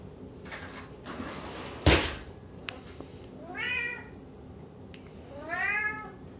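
A domestic cat meows twice, each a clear rising and falling call, with a sharp knock or cupboard thud before them in a quiet room.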